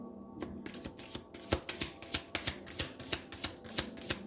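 A deck of tarot cards is shuffled by hand, a quick run of crisp riffling snaps in an even rhythm, close and clear with no speech.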